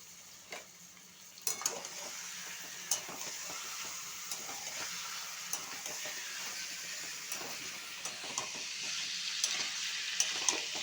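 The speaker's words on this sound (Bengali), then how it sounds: "পেঁয়াজগুলো আমি খুব বেশি ভাজবো না, আমি মাংসগুলো একটু ভেজে নেব এর সাথে" Onions and chicken frying in a pan give a steady, bright sizzle throughout, broken by scattered light taps and scrapes of a spatula against the pan.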